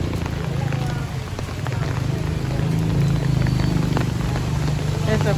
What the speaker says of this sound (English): Rain is getting hard now. Pouring rain.